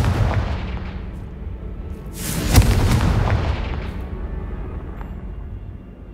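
Confringo fire spell blasts in Hogwarts Legacy: a loud booming burst near the middle, swelling and fading over a couple of seconds, with rumbling gameplay noise before and after.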